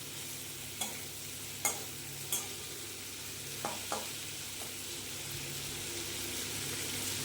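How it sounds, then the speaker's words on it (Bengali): Hilsa fish fry in butter in a pan, a soft steady sizzle running throughout at low volume, broken by a few sharp clicks and taps of utensils; no one speaks. "বন্ধুরা এইবারে এই বাটারের ইয়েতে মাছগুলোকে ভেজে নেব।"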